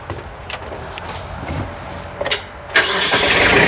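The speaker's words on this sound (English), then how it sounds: "I'm going to fire it up" Kubota B26 compact tractor engine cranking and catching, a brief whirring start building into a loud, steady running roar near the end, preceded by quieter background rumble.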